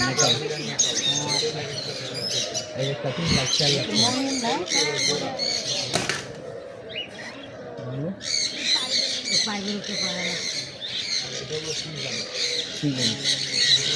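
Parrots, a peacock and pigeons calling at a resort in Gajipur, repeated squawks, coos and chirps at moderate distance, with people talking over them throughout.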